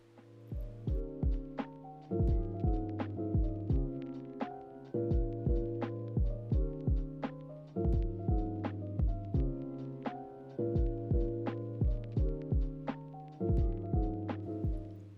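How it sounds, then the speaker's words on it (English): A home sewing machine stitches a small angle in lace for a bias-cut slip dress, giving a steady, close, rhythmic series of mechanical thumps and hum that pauses briefly between runs. "I take it to the machine and just sew that little angle"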